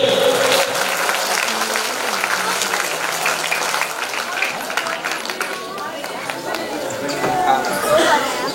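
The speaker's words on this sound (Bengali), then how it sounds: "সকলের কাছে হাততালি চাইছে জোরে" Audience applause at an inaugural concert event, steady clapping from a crowd with chatter and voices mixed in throughout.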